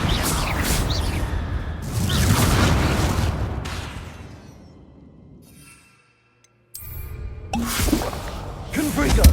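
Explosive Confringo spell blasts in Hogwarts Legacy, loud booming bursts that swell and fade, then a brief near-silent gap before another close blast hits.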